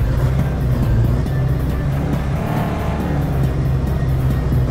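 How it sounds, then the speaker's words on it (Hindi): A monster truck from a video game drives through water, its engine a loud continuous roar with churning, splashing texture. "और ये पानी के बीच से हमारा मॉन्स्टर ट्रक आगे बढ़ते हुए"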